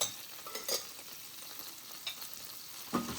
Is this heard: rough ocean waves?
no